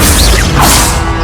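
An Expelliarmus disarming spell cast in the Hogwarts Legacy video game: a brief, loud whooshing swish with a crashing impact, dense and forceful over about a second.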